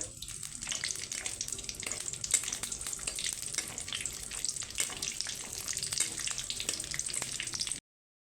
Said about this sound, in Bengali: কাজুটা একটু কম তেলে হিটেই ভাজতে হবে